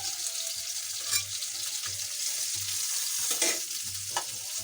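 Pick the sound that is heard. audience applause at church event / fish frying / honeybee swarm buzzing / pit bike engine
fish frying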